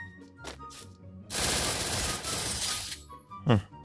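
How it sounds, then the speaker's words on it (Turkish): MP40 submachine gun in Free Fire firing a sustained burst of about a second and a half, loud and dense, with brief separate sounds before and after. "Birazcık MP40 ile sıkacağım."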